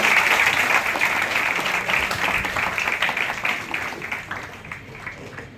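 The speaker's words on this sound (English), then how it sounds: "Let us give them a thunderous round of applause" Sustained applause from a sizable crowd, steady dense clapping that holds for several seconds and tapers off slightly toward the end.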